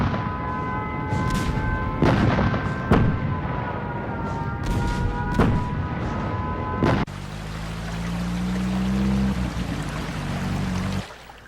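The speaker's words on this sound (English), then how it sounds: "The bombs don't fall too far from here." Bombs explode nearby in an animated wartime film: several deep booming blasts ring out over a sustained musical tone, then a low rumbling roar swells and cuts off.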